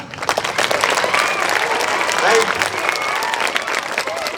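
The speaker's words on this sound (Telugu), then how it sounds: "రైతు బిడ్డకి చప్పట్లు కొట్టాల" Loud, dense applause from an audience at a student talent-test ceremony, greeting the chief guest, continuous clapping with crowd noise and some voices mixed in.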